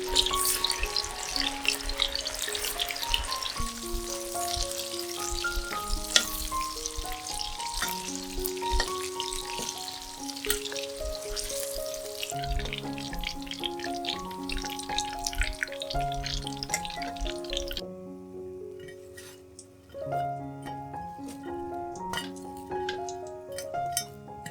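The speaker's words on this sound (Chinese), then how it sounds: "炸至金黄色。" Vegetarian sweet and sour pork, a meat substitute fried alongside taro, sizzles in hot oil in a wok, with occasional light clinks under loud melodic music that drops away near the end.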